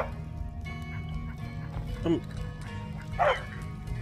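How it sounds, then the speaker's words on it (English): A dog barks in the video game Skyrim, two short distinct barks about a second apart over steady ambient game sound, with no talking. "Hello, dog."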